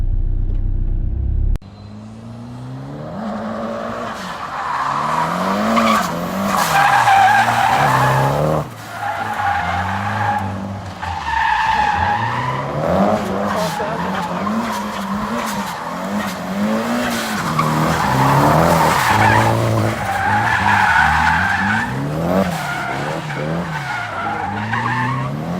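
A 2500 turbo diesel pickup truck drifts with its tires skidding and squealing for a long, continuous stretch, the engine roaring loud and close under the wavering screech.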